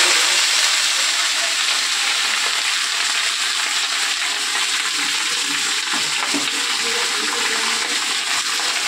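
Malabar spinach greens go into a hot pan of fried whole spices, giving a steady, loud, close hiss and sizzle without break.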